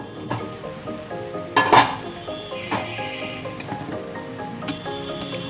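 A metal lid is lifted off a blackened kadai of boiled duck eggs, giving a sharp clink and clatter near the middle, with quieter metallic knocks and a faint simmer around it.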